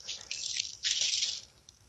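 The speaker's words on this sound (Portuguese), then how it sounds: "Vamos arrumar a soja até a metade da garrafinha." Soy chunks (soja borrachinha fishing bait) go into a small plastic bottle, making a few quick, crisp rustling and squishing bursts close by, separated by short pauses.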